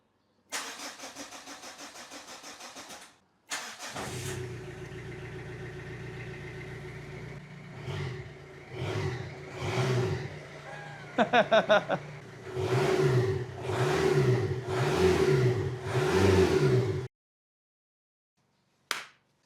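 A Renault Clio engine cranks and catches after a short silence, settles into a rough idle, then takes a string of sharp revs that rise and fall in quick succession before cutting off abruptly.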